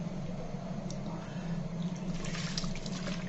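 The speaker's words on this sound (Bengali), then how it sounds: "পানি দিয়ে দিলাম।" Water poured into a pot of mangoes mixed with spices, a steady splashing pour running the whole time, close and alone.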